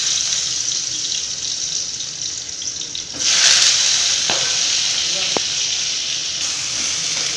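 Chopped tomatoes dropped into a little hot oil in a pan, giving a steady sizzling hiss that swells after a few seconds and carries on with a couple of sharp clinks of a utensil.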